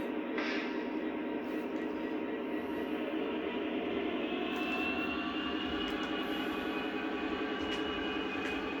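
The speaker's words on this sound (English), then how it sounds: "Let's see what these emergency sounds sound like." A Lionel Legacy SD45 model diesel locomotive's emergency sounds: a steady, droning diesel engine rumble with a continuous hiss and a sustained horn-like tone, loud and unbroken for the whole stretch.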